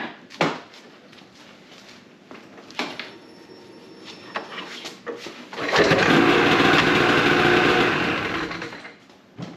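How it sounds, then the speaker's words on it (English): A 2021 Ski-Doo Expedition Sport 600EFI snowmobile is started with a recoil pull: several sharp cord yanks and clunks come first, then the engine catches and runs for a few seconds as a steady, loud buzzing drone that dies away. "we got that pull start working"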